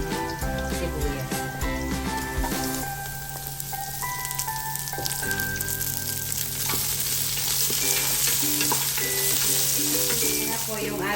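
Chopped onions frying in a pan for Ilocano pakbet, a continuous close sizzle with crackling and stirring, loud and steady with no one speaking.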